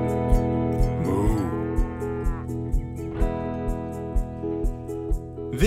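Low cow moos swell over a steady background of music with a regular, thumping beat.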